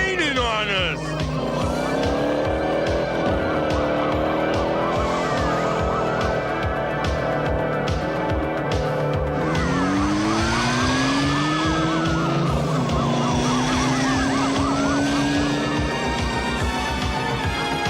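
Cartoon car chase with police cars in pursuit: wailing sirens rise and fall over roaring engines and squealing tyres, loud and continuous, with a score playing underneath.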